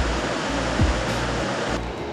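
Big surf along the Oregon coast near Samuel Boardman Park and Brookings gives a steady, loud roar of breaking waves and wash, broadband and continuous with no voices.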